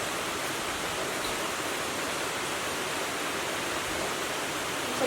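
Heavy rain pours steadily outdoors in North Carolina, a dense, even hiss of broadband noise that stays constant throughout with no talking.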